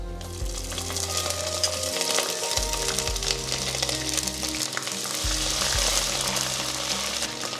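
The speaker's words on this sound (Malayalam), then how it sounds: "ഇതിലേക്ക് നമുക്ക് ഒരു ടേബിൾ സ്പൂൺ ഇഞ്ചി ഇട്ട് കൊടുക്കാം." Ginger dropped into chopped coconut frying brown in a pan for a prawn roast sends up a loud, continuous crackling sizzle close by, with a steady tonal hum running underneath.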